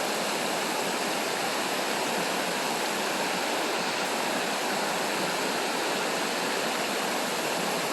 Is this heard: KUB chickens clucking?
no